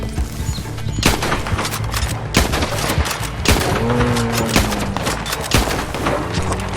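Rapid bursts of gunfire crackle repeatedly in a loud, chaotic battle in Red Dead Redemption 2 Online, with a low droning tone rising and falling beneath the shots.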